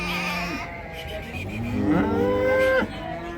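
A young Swiss bull calf moos loudly nearby at a livestock market in a couple of drawn-out calls, the second rising and ending abruptly.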